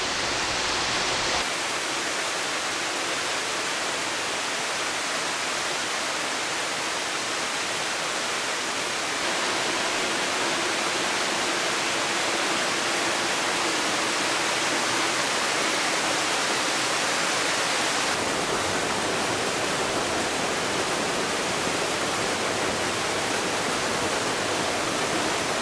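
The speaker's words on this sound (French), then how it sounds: "Je vous laisse découvrir la cascade dans sa totalité" Steady roar of a waterfall in the Pays Cathare, a dense broadband rush of falling water that fills the scene continuously at close range, with no voices.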